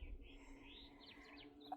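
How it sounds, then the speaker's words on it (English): Small birds chirp and sing in a backyard garden beside a shed, with thin, fairly faint calls carrying over a steady outdoor background. "we hear all the pretty birds"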